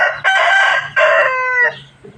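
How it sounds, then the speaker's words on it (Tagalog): A rooster crows loudly and close by in two long, drawn-out calls, followed by a quieter trailing cluck. "Maririnig mo puro manok."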